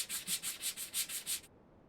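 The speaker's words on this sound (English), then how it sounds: "I'm gonna have sanding dust everywhere." Pine or fir scrap wood being sanded by hand in eight close, rhythmic back-and-forth strokes, loud and steady, then stopping abruptly into near silence.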